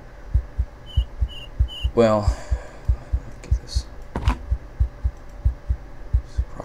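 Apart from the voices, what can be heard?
heartbeat sound effect in the video game Runescape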